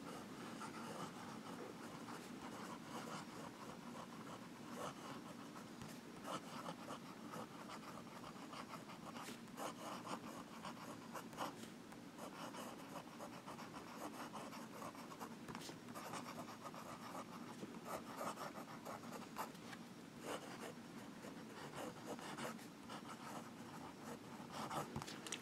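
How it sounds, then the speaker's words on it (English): Tactile Turn Gist fountain pen writing on paper, a steady soft scratching of the nib that continues close and even throughout, with no talking. "Now we'll do some writing."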